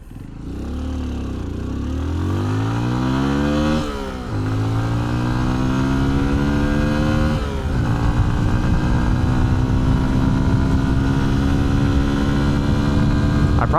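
A 2025 Honda XR150L 149cc motorcycle accelerating hard through its gears, the engine note climbing steadily, dropping at each shift near four and seven seconds, then pulling again, loud and close with no talk.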